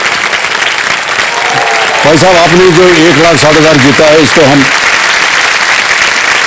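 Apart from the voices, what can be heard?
studio audience applause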